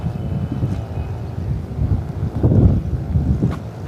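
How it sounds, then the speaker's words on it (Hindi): Strong wind sweeps across an open, largely empty plot of land, buffeting the microphone with loud, continuous low rumbling and gusts that swell and ease without pause. "देखें कितना ज़बरदस्त इलाका, कितना हवा चल रही है।"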